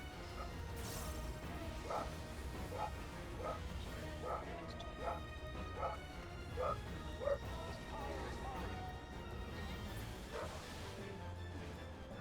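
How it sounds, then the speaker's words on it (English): Dogs bark in repeated bursts through gaming voice chat, sounding somewhat near, with occasional whimpers and yips scattered over steady background noise and talk. "I'm sorry for my dogs."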